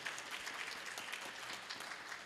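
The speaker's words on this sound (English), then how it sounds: "Now that deserves an applause right there." Audience applause at an art event, a dense, even patter of many hands clapping throughout, fairly distant and soft, with no talking over it.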